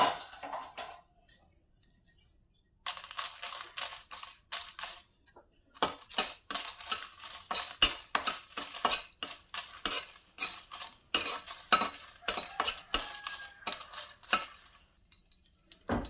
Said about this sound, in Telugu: ఇప్పుడు ఒక కడాయి పెట్టి వేడైనాక ఒక స్పూన్ నూనె వేసుకొని ఒక 10 ఎండుమిర్చి వేసుకొని